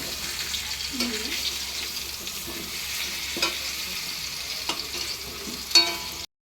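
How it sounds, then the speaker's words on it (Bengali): Onions fry in oil in a pan for a chicken curry, a continuous moderate sizzle with occasional stirring scrapes and light knocks, heard close with no talking. "এবার পেঁয়াজ দিচ্ছি। পেঁয়াজটা একটু লাল লাল করে ভেজে নেব"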